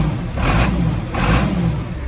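A New Holland 40 series tractor with about 13,000 hours runs smoothly up close, a steady broadband engine rumble with two gentle swells, no voices over it.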